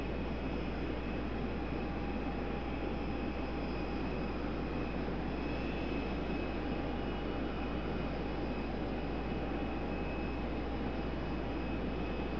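An airliner takes off from a runway at Raleigh-Durham airport, a steady, distant engine roar with a low rumble and a faint whine that hold evenly throughout, with no voices.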